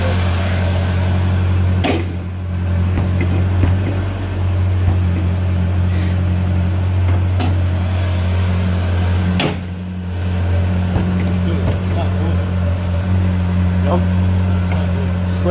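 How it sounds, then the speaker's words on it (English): A salvage-auction Ferrari engine idles steadily after a cold start, a loud, constant low hum with a couple of brief dips and faint knocks and clatter over it throughout. "Regular cold start. No rattling or anything."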